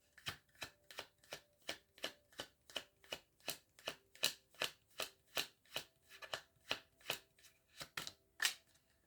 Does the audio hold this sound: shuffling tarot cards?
yes